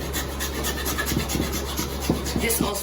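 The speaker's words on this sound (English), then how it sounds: "A hacksaw. Just remove it from its frame. As you can see, this also works well." Thin scraping strokes of a bare hacksaw blade, taken out of its frame and used to flush-trim wood on a hand-built milking stool, heard over a steady low hum with a few sharper rasps toward the end.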